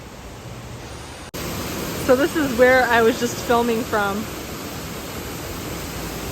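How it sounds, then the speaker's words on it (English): Continuous broadband rush of a waterfall outdoors near Medellin, a steady hiss running throughout while a person speaks over it. "waterfall in the background."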